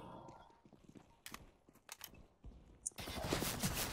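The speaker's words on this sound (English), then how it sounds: "Oh, I hear gunfire." Bursts of gunfire in Counter-Strike: Global Offensive crack in quick clusters, ending in a louder, sustained stretch of shooting and noise.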